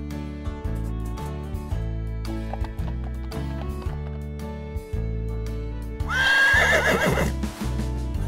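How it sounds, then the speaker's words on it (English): A horse gives a loud, drawn-out whinny in the last couple of seconds, rising above steady background music. "Horse."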